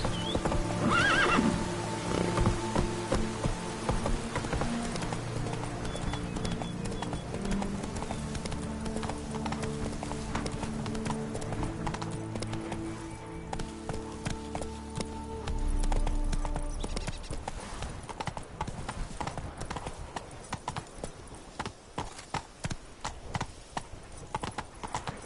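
A horse in a video game gallops with rapid, rhythmic hoofbeats and lets out a whinny near the start, the clip-clop continuing steadily amid game music and ambient sound.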